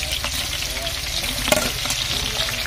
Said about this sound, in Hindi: 3 से 4 मिनट के लिए प्याज फ्राई करेंगे